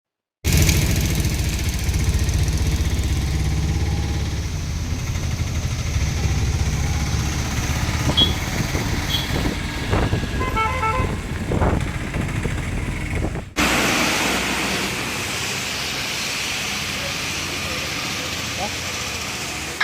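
An auto rickshaw's engine drones steadily on a ride in Kerala, a loud mid-pitched rumble that runs under voices and then drops to a quieter hum partway through.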